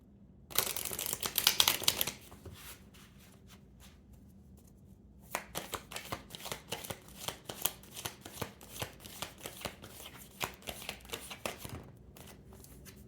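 Tarot cards are shuffled close up in two bursts: a short, dense riffle at first, then after a pause a longer run of quick, uneven flicks and slaps as the deck is mixed by hand.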